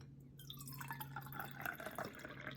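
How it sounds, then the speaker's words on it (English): Hot water pours from a kettle over a pyramid tea bag in a cup, a steady close trickle with a rising fill tone, alongside a low constant hum. "So I'm just going to pour in some hot water."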